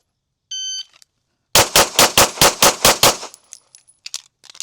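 A short electronic beep, then a rapid string of about nine close, loud gunshots at shooting practice, followed by a few scattered fainter shots and clicks.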